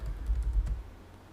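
Computer keyboard keys tapped briefly while logging in to a Kali virtual machine restored from a VirtualBox snapshot, a short close burst of soft clicks over low thumps that quickly fades.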